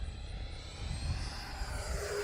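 E-flite Viper 90mm RC electric ducted-fan jet on a full speed pass, a rising, whooshing whine that sweeps across and grows louder as the model races by, with wind rumble underneath.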